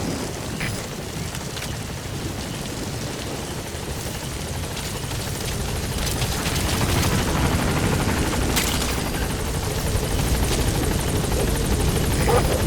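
B-Quad helicopter arriving at a landing zone in Metal Gear Solid V: The Phantom Pain, a dense rotor roar with chopping thrum that grows louder and closer, steady and alone without voices.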